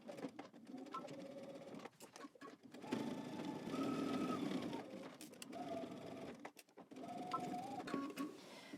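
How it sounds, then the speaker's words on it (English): A sewing machine whirs in quick rhythmic bursts, stitching a dress seam with back stitching at each end, starting and stopping several times, close by and fairly quiet, with brief pauses between runs. "We're going to stitch using 5/8 of an inch seam allowance."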